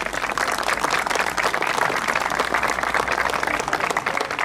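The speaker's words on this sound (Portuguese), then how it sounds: "uma grande salva de palmas." Dense, steady applause from an indoor audience at a historic regularity rally prize ceremony, heard close and continuous throughout with no pauses.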